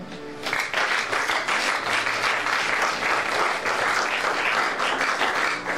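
A church congregation applauds during a French-language Bible teaching, a dense, steady wave of clapping that starts abruptly and holds at an even level for several seconds.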